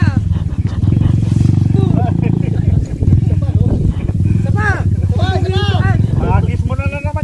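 A motorcycle engine revs hard on a mountain road in Benguet, a loud, close, rough drone that rises and falls repeatedly, with people talking and shouting over it.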